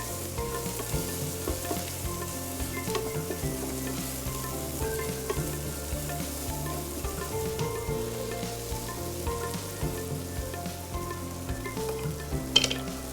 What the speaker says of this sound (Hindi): तो ये गए हमारे सारे मसाले